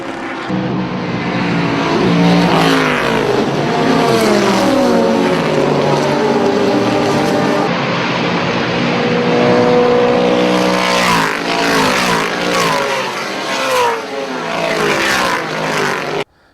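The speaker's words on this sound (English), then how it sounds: "I have this 1965 Corvette Roadster race car." A 1965 Corvette Roadster vintage race car engine roars loud and close, revving and holding a sustained growl throughout with rising and falling throttle, briefly cutting off at the very end.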